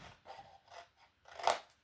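Scissors bevel-cutting paper for a Halloween scrapbook case, heard as a few faint, close snips with a sharper crisp cut near the end.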